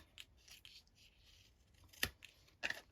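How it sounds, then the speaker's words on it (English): Scissors snip pieces off paper for a vintage-style box, a few faint light cuts followed by two sharper, louder snips close by. "So I'll cut these all off"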